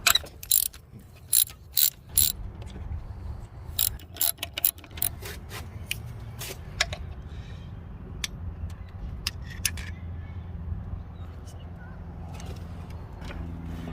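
Ratchet clicking as a 12 mm bolt is removed from the EGR on an Acura TL SH-AWD: sharp clustered clicks in short bursts early on, then sparser ticks and faint handling noise, close and fairly quiet.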